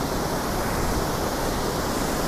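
Rushing water at So Va waterfall in Que Phong, Nghe An, a steady, loud, broadband roar of falling water with no break and no voices.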